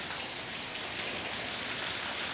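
Steady rain falling and pattering on a surface, a continuous dense hiss with no voices, close and even throughout.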